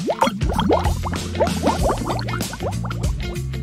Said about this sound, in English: Next, I'll pour soda into it.